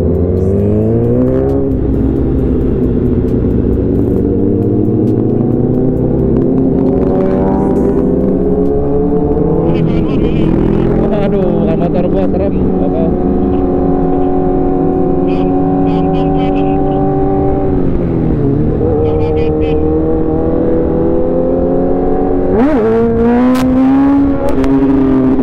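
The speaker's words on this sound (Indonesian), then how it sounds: "Motor CBR ya." Honda CBR motorcycle engine heard loud and steady, its pitch climbing and dropping through several revs and gear changes over a continuous droning roar.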